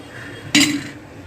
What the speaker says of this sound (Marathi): आता मस्त याला झाकण ठेवूया